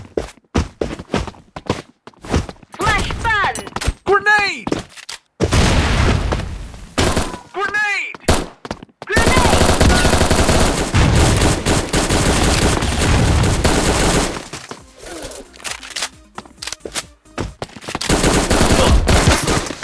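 A SIG MP5 fires in the mobile shooter Bullet Angle, with rapid automatic bursts loud and close that cut in and out between pauses, alongside clattering game effects and someone speaking over parts of it.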